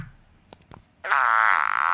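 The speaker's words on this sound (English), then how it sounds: "Where's the fart pen?" A novelty fart pen toy lets out one long, buzzy, rasping fart noise about a second in, following a couple of faint clicks.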